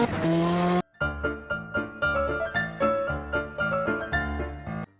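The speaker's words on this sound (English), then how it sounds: "turning the car in the game" Tire squeal from a car turning in a racing video game, a sustained tonal screech followed by a series of rhythmic, pulsing squeals with engine tone, loud and close with no talk.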